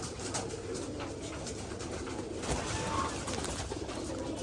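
High-flying Giribaz pigeons in a large farm loft coo steadily, a continuous close murmur of many birds layered over a constant background hiss, with no voices.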